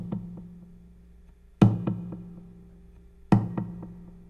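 Knocks on the body of an acoustic guitar run through a tape delay, two main hits each trailed by quick fading echo repeats over a faint sustained string hum.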